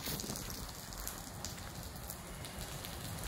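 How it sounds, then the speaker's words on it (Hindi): Rain falls steadily, picked up by a Vivo T4 Ultra phone microphone outdoors: a soft, even hiss of drops with no voices. "बट बारिश हो रही है"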